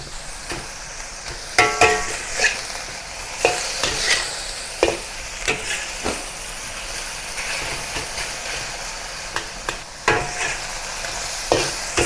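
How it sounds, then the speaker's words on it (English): Thai basil fried rice searing and being stir-fried in a wok, a continuous sizzle broken by repeated sharp clanks and scrapes of the spatula at irregular intervals. "Spread it into a thin layer and let it sear for a while to get a golden brown effect on one side"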